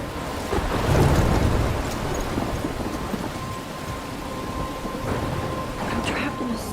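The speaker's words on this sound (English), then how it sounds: "I'm trapped in a storm?" A thunderstorm with heavy rain in the video game Life is Strange, a dense steady downpour with a deep rumble of thunder swelling early on, continuing without talk.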